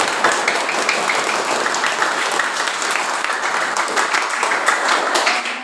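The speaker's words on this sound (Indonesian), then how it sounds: "Kurang semangat, tepuk tangan lagi." Vocational high school students at an orientation event clap again in a thick, continuous burst of applause, loud and even from start to finish.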